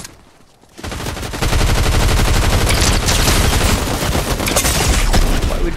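Loud, sustained gunfire in the video game Fortnite, rapid bursts rattling almost continuously for several seconds after a brief quiet start.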